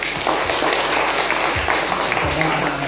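An audience at an outdoor church gathering of several congregations applauds in a dense, steady wash of clapping that carries through the whole stretch, loud and close.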